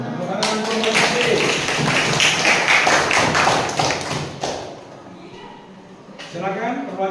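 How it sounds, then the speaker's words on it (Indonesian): A classroom group claps for group B in a burst of dense applause lasting about four seconds, mixed with voices, before the room settles into quieter talk. "Tepuk tangan untuk kelompok B."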